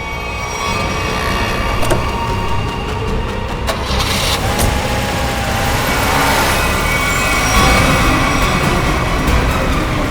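A car engine starts and then runs with a steady, close, fairly loud rumble that holds for about ten seconds, with no voices over it.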